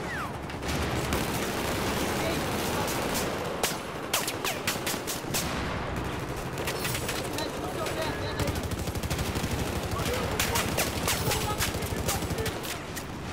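Dense automatic and single gunfire from a Battlefield 4 multiplayer match, loud and nearly continuous throughout, with sharp overlapping shots and occasional shouted voices underneath.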